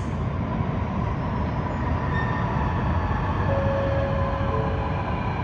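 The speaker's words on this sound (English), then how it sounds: "you might have noticed a metro train in the distance. The train to Telvon is going to enter platform number" A Sydney Metro train pulls into an underground platform at Central Station, a steady rumbling roar with a high whine and faint tonal squeal over constant station ambience, no voices.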